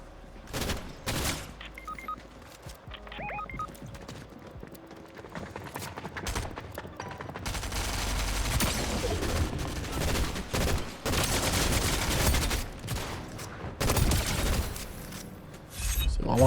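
Repeated gunfire from a three-round burst weapon in the Fortnite video game, with dense overlapping shots and game effects sounding through most of the stretch, loudest in the second half, with no speech.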